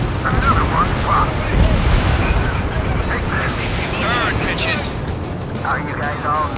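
Explosions rumble and boom in the Ace Combat 7 pipeline destruction mission, a dense, continuous low roar of blasts under radio chatter from voices speaking throughout.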